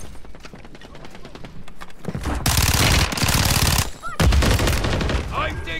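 Rapid automatic gunfire bursts in Call of Duty Warzone on Rebirth Island, starting with lighter distant shots, then loud sustained close-range machine-gun fire with a brief pause in between.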